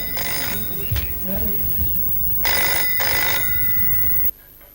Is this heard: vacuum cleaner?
no